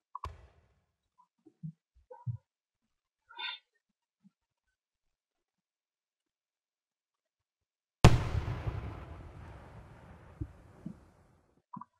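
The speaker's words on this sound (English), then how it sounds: "So that is the firework," Fireworks from the FWSIM firework simulator video game: a few soft pops and whistles, then a sharp loud burst that crackles and fades over several seconds.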